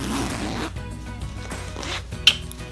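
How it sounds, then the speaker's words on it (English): Memory foam pillow cover, stuffed with a gel-infused memory foam and microfiber blend, being zipped shut: a fast rasping zip runs through most of the clip, close and fairly loud, with a sharp tick near the end. "So I'm just gonna zip her up"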